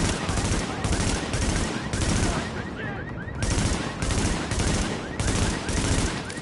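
Dense, continuous automatic gunfire from a shooter video game set at a checkpoint in the Lincoln Tunnel, loud and sustained with rapid overlapping shots and only brief lulls.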